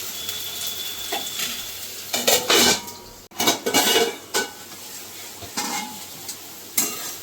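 Potatoes frying in a pan at home, with bursts of spatula stirring and scraping against the metal over a soft sizzle, in uneven clusters up close and without talk.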